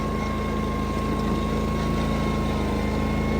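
A Toro Wheel Horse tractor engine runs steadily at a low, even idle with a constant mechanical hum and faint pump-like whir, close and continuous, without a clear audible drop in speed.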